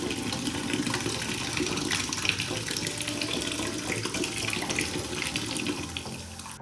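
A bottle of Chupa Chups orange soda hisses and fizzes steadily after opening, a constant bright rushing carbonation sound close by that holds evenly for several seconds.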